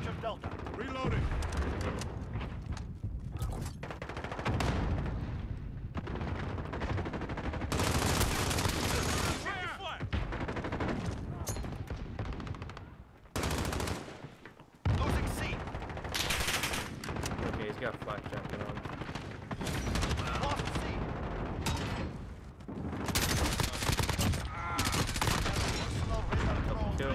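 Sustained automatic gunfire from a favourite weapon in a video game, long loud bursts of rapid shots with heavy booms behind them and a short lull midway, while voices talk over the battle.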